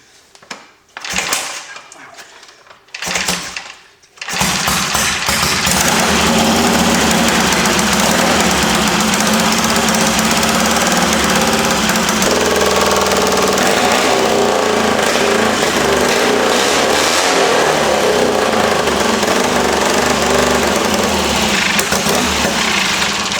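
A Triumph Tiger 90 motorcycle, running rich with fouled spark plugs, coughs through a few brief cranking bursts before catching and running loud and rough, its engine clattering steadily close by.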